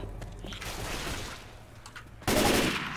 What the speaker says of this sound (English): Brandon keeps shooting you guys.